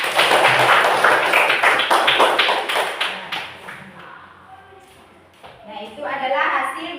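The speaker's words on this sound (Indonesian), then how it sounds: "Tepuk tangan untuk kelompok 3." A classroom claps for group 3, loud quick taps of many hands up close at first, then thinning out into scattered claps and children's chatter before voices rise again.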